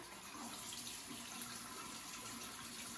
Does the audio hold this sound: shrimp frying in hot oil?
no